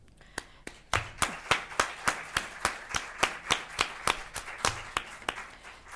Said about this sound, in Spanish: un aplauso a Isadora Duncan por haber